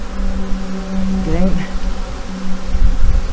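A dense, loud hum of honeybees buzzing close around an open hive during an inspection after a swarm, a continuous droning with individual bees rising in pitch as they pass near.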